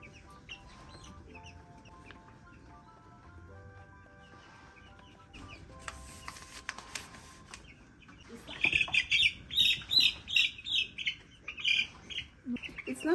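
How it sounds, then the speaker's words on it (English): Broiler chickens at fourteen days old being handled and weighed, faint clucks at first, then a run of loud repeated squawks and cries in the last few seconds over handling noise. "It's not nice to handle the birds from the wings like this because you will end up hurting them."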